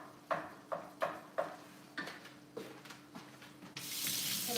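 Water starts running from a kitchen tap to wash hands after touching raw meat during lasagna making, following a series of soft knocks and clatters, and then rushes steadily at the end.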